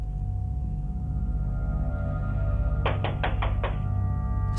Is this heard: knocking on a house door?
yes